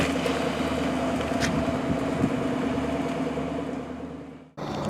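A Ford GT sports car on the road, its engine a steady mid-pitched drone with road rumble heard from the cabin, briefly dropping out near the end before resuming.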